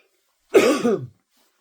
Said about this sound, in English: I've got a bit of a dry cough at the minute myself